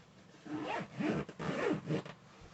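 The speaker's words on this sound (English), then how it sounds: "Let's keep on zipping" A zipper on a US military patrol sleeping bag being pulled closed in three quick, raspy close-up strokes, loud and alone.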